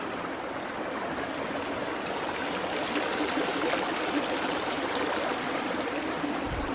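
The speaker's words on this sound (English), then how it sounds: "Look, there's a little waterfall over there too." Small waterfall in a desert oasis at a former hot springs resort, a steady continuous rush and trickle of falling water heard close by without pause.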